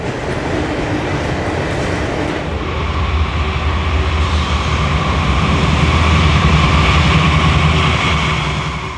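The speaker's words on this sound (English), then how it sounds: "The helpers continue to push the rear of the train past the former Crescent Tower." A Conrail freight train rumbles past the former Crescent Tower on the West Slope, pushed from the rear by helper locomotives. A loud, steady diesel roar mixes with wheel clatter and grinding, growing slightly as it passes close by.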